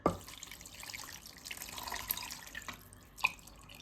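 Water trickles and drips into a bowl of lahmajo topping mixture with oil, faint and close, with a brief louder splash near the end.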